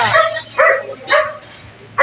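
A dog at a neighborhood fiesta in Alabang gives four sharp, close barks spaced at steady intervals, with faint voices nearby.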